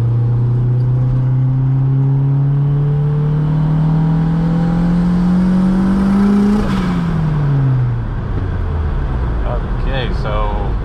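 A 1.8T Mk2 GTI with a 76mm exhaust makes a third-gear pull, its engine and turbo whine climbing steadily in pitch for several seconds before dropping off as the throttle lifts, with a brief hiss at the end.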